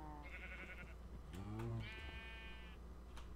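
Sheep in a Minecraft FTB modpack game bleat in a few short, clear calls, with no voices over them.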